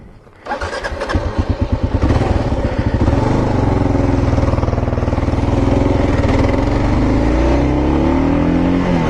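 A 2014 Kawasaki KLR motorcycle engine starting up and settling into a loud, steady thumping run, close and continuous with a rising drone, no speech.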